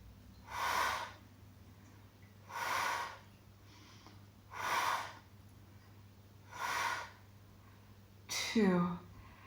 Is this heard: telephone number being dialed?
no